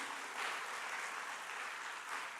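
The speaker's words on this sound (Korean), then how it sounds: "은혜 주신 하나님께 영광의 박수 올리겠습니다." Congregation applauding during a Sunday church service, a steady wash of many hands clapping together at moderate, fairly distant level, sustained without pause.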